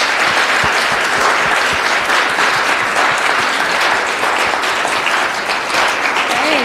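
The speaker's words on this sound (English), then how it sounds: "Let's give her a big round of applause." An audience at an occupational therapy evening event gives a speaker a loud, continuous round of applause, dense clapping that holds steady for several seconds with little else.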